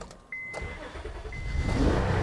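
A Honda Odyssey minivan engine cranks briefly, then catches and starts, settling into a steady idle that grows slightly louder, recorded close with no talking.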